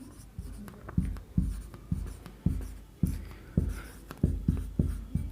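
Chalk or marker strokes on a board in a physics class come as a steady series of about a dozen crisp taps and scrapes, close up and fairly loud, with no talk.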